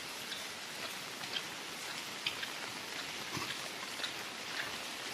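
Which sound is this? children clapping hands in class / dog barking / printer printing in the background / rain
rain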